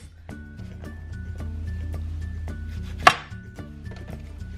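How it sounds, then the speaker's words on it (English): A knife chops washed strawberries into small pieces on a board: a steady run of crisp, close, rhythmic taps with one louder knock, all under light background music. "So I've just washed my strawberries and I'm just gonna cut it into very small pieces"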